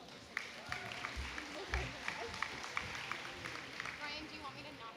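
A crowd claps at a college convocation ceremony, with a voice speaking close by over scattered, moderate applause.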